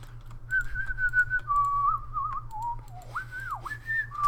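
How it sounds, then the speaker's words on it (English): A single person whistles a wavering, sliding tune up close, with a low steady hum in the background. "I'm sorry that I keep whistling into my mic."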